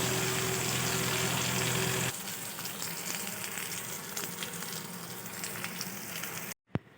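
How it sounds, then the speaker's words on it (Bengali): Pieces of katla fish coated in batter sizzle steadily in hot oil in a pan for chili fish, a loud continuous crackling fry that drops slightly in level partway through before a brief cut and a single clunk. "দেখুন আমার মাছগুলো কিন্তু ভাজা হয়ে গেছে, খুব ভালোভাবে ভেজে নিয়েছি।"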